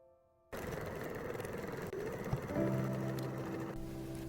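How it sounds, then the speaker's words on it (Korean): A sewing machine stitches a 1 cm seam along the bottom of a bucket bag's outer and lining fabric, its steady motor hum starting abruptly after a quiet moment and running continuously with no talk. "겉감, 안감 바닥 1cm 박음질 합니다."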